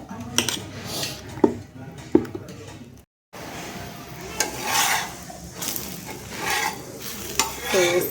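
Chopped onion being stirred into dosa batter makes close, wet scraping and clinking against a vessel in repeated strokes, while a pan sizzles in the background and a voice is briefly heard.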